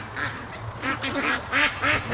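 A flock of ducks on a lake quacks in quick, raspy bursts, several calls overlapping in an uneven chorus close by, with a low background of outdoor noise.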